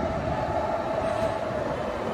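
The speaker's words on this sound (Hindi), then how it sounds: "इंजन चालू है" Indian Railways Rajdhani Express locomotive engine idling at a junction, a steady, loud broadband rumble and hum that holds constant throughout without clear clicks or breaks.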